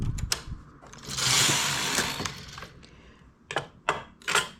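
A knitting machine carriage sweeps across the bed knitting rows of a zigzag ribbed pattern, with a long rasping pass followed by several sharp mechanical clacks and rattles, close and loud, with no talking.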